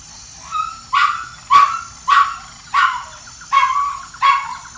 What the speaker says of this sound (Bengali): কুকুরটা প্রচন্ড আর্তনাদ করে উঠল